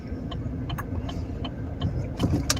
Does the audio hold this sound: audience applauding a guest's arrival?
no